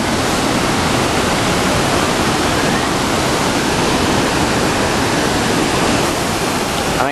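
Bushkill Falls waterfall roars in a dense, constant rush of falling water, loud and close, with no break over several seconds.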